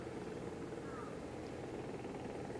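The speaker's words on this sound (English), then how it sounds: "I can hear a helicopter, the distinctive sound of a very large helicopter." A large helicopter at Nagasaki Airport thrums steadily in the distance, its low rotor beat faint and continuous under ambient noise.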